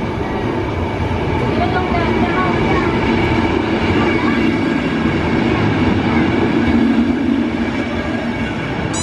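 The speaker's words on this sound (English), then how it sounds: "The train will arrive." A train arriving at a station rumbles steadily nearby with continuous rolling noise and a faint squeal near the end, a constant, fairly loud mechanical drone.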